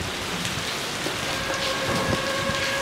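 Steady rain falling outdoors at a parish cemetery during a mass, a dense continuous hiss of drops close by with no voices.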